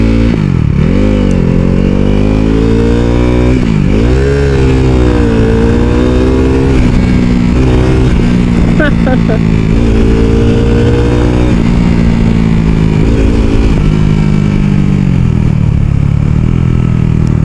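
A motorcycle slows by engine braking with the clutch and throttle released, its loud engine droning close up as the pitch sweeps and falls, with clattering mechanical noise throughout.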